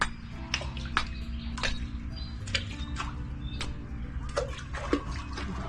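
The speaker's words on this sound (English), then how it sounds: "I'll wash my fingers." Fingers are rinsed under running water outdoors on a Thai farm, with close, uneven splashes and drips over a steady background murmur.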